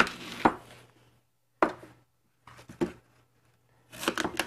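A knife cutting apples on a board in a home kitchen: four separate sharp chopping knocks with pauses between, the last a quick cluster of cuts, close and clear over a faint low hum.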